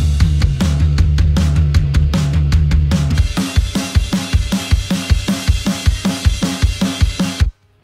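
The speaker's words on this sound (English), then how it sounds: "Here are the drums in solo." Soloed stoner rock drum kit, with a busy crash-washed pattern giving way to steady driving kick and snare hits, faint guitar bleed beneath, before stopping abruptly.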